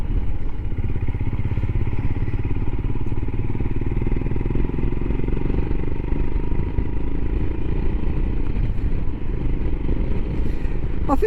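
A Royal Enfield Himalayan motorcycle is ridden at a steady pace, its engine putting out a loud, continuous low thrum with wind rush and faint rattles throughout.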